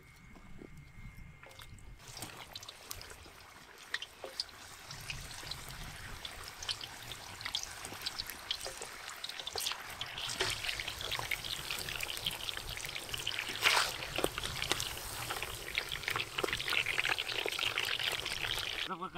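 Cooking oil pours into a pan for frying brinjal vada, a steady, close liquid stream that grows louder and fuller over about nineteen seconds, with faint splashy crackles.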